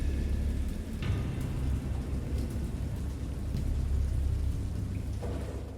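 A thunderstorm sound effect: steady rain falls on surfaces under low, rolling thunder rumbles that swell and fade, with a few sharper cracks standing out.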